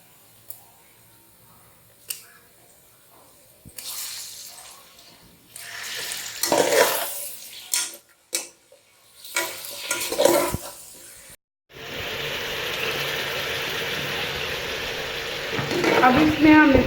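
Mutton pieces browning in an Instant Pot: scattered clinks and stirring bursts first, then a sudden loud, sustained sizzle as the meat fries, growing stronger toward the end.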